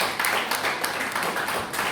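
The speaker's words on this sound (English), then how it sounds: "Let's put a round of applause to them" An audience at a Toastmasters Gavel Club gathering claps steadily throughout, a dense, continuous patter of many hands with no voices over it.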